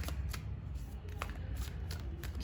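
Tarot cards shuffled by hand in quick, repeated riffling bursts, with soft papery flutters at close range and a brief card snap at the end.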